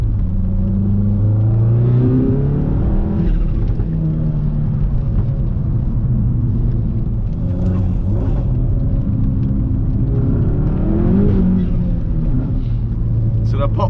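A stage 2 tuned Volkswagen Golf Mk7 R with 400+ bhp revs loudly from inside the car, its engine drone climbing and falling in long sweeps, with a few short crackles as the revs drop.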